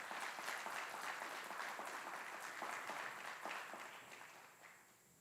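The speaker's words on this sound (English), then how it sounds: "Please join us in giving a round of applause to these outstanding drill sergeants and instructors." Faint applause from an army graduation audience honoring drill sergeants and instructors, a steady round of clapping heard from a distance that tapers off toward the end.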